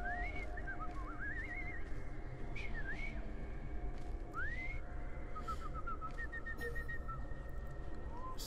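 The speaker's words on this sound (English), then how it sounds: "I've just learned to whistle." In-game character in Assassin's Creed Syndicate whistles a series of rising and falling melodic phrases over a steady background hum, several short tunes spread across the clip.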